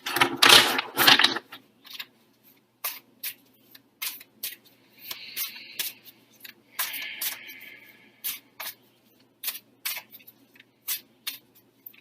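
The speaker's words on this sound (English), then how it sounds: "So I'm going to be shuffling the cards." Tarot cards are shuffled in a series of crisp, close riffling snaps and soft flutters. Irregular bursts come every second or so in an otherwise quiet room.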